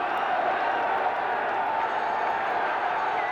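A football crowd of nearly 20,000 at the Den for a second division Millwall v Crystal Palace match, a steady, broad murmur of many voices filling the stadium, even and unbroken, with no distinct cheers.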